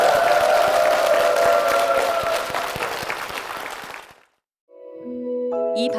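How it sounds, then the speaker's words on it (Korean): A church congregation at Ansan Yejeong Church claps together in sustained, loud applause with crisp individual claps, which cuts off into a brief silence before bright electronic tones begin. "함께 영광의 박수를 드리겠습니다"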